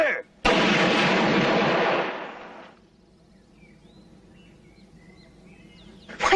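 A loud, sharp rifle volley from a line of soldiers firing together on command, in a 1977 desert-legion war film, leaves a long, rolling echo that fades into quiet with faint birdsong.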